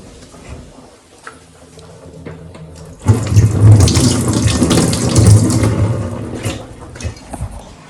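Water runs from a kitchen tap as something is rinsed beneath it, starting quietly and then gushing loudly and steadily for several seconds, with occasional small clinks.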